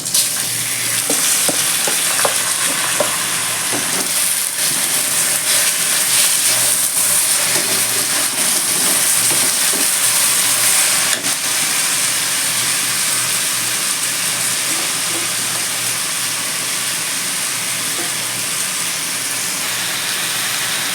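Rice being fried in a pot for pulao, a strong continuous sizzle with stirring scrapes, close and steady throughout, no talk.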